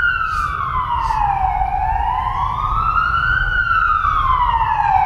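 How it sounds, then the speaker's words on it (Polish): An ambulance siren passes outside, loud and continuous, its wailing tone slowly sweeping down and back up over steady traffic rumble. "Nie, karetka pogotowia."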